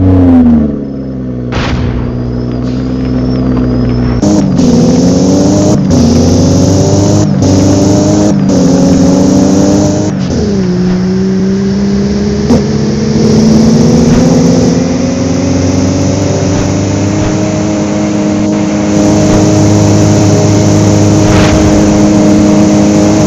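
A Toyota car engine in the Roblox game Driving Empire revs repeatedly, climbing and dropping in pitch in a series of sharp throttle blips before settling into a sustained, rising drone, loud and close with no talk.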